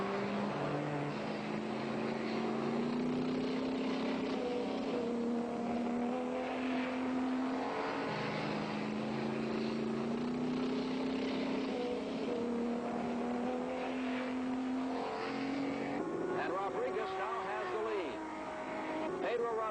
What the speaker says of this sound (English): There goes Hap Sharp by him